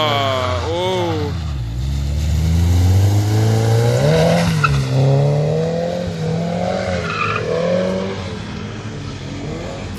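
A race car skids and spins on the snow-covered Refrigeration Bowl at Summit Point Raceway, its tires squealing and its engine wavering in a long, loud slide while excited voices call out nearby.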